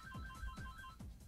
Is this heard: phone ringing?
yes